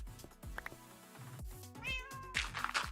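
A Minecraft cat meows several times in quick succession, close and clear over game background sounds, with short rising and falling calls.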